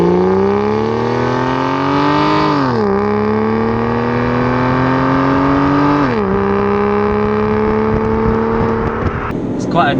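An Aston Martin DB9 Volante's engine revs through the gears while driving, pitch climbing steadily then dropping sharply at each of two upshifts around three and six seconds, loud and continuous throughout.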